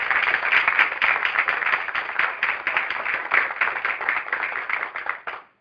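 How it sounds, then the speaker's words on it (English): A crowd at a state board of education meeting applauds with dense, steady clapping that carries on for several seconds before fading out. "Can we please give them a round of applause?"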